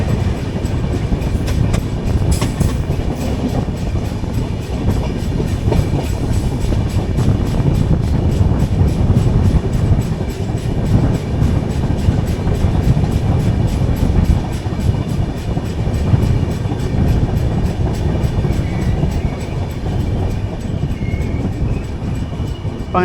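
The 22114 Kochuveli–Mumbai LTT Superfast Express runs steadily, heard from aboard as a continuous loud rumble with rail clatter and wind buffeting, and no voices.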